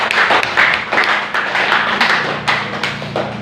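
A church congregation claps together for God during a service, a steady rhythmic unison clapping that runs continuously and loudly throughout, with faint voices beneath.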